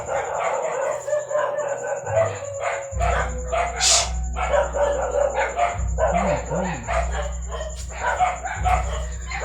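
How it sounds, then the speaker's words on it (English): Dogs barking outside, with a rooster crowing among them, heard as repeated barks and calls over a steady background hum for several seconds. "I'm very, very sorry if there's dogs outside."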